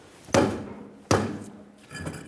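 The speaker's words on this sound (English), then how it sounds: "use a rubber mallet and tap the backside of the tire, not the rim" A rubber mallet strikes the back of a stuck tire on a Ford E-350 Super Duty wheel in two sharp, close thuds about a second apart, followed by a softer third knock.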